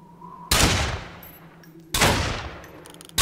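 Two loud, separate gunshots in the video game Fallen Earth, each a sharp blast with a decaying tail, about a second and a half apart.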